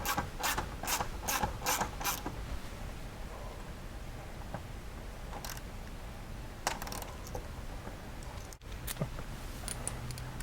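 Bolts and cup washers are fastened onto a floorboard skid on a Yamaha Viking VI side-by-side, with rapid ratcheting clicks at the start, then sparse metallic clinks and rubbing, quiet and close.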